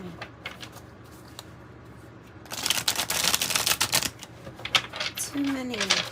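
Tarot cards are shuffled by hand in quick, crisp riffling bursts with rapid flicking clicks, close up, and a voice briefly speaks near the end.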